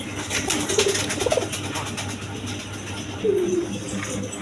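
A pair of red golla pigeons and other pigeons coo softly in low, rolling calls, with a few louder coos rising above a steady background murmur.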